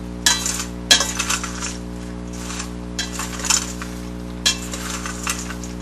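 Smokehouse almonds being gently stirred in a bowl give intermittent rattling clinks in short bursts, close and fairly quiet over a steady low hum, with no voices.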